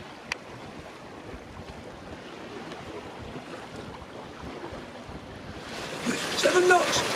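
Wind rushes and water washes steadily around a sailboat running dead downwind in a moderate 14 to 16 knot breeze in the East Aegean, a broad continuous hiss that swells louder near the end.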